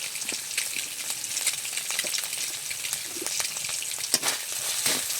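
Spice masala with salt and turmeric frying in a pan, a constant close sizzle broken by irregular scraping and clinking stirs, no voices.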